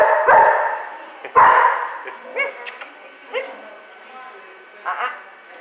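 A puppy gives two loud yips followed by several softer, short barks and whimpers spread out over a few seconds.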